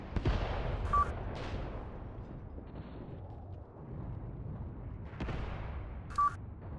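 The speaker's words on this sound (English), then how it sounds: "This position is being shelled, interestingly enough." Artillery shelling in the video game Mius Front, with heavy booming explosions that rumble and decay over several seconds, plus a couple of short high electronic beeps, loud and close with no talk.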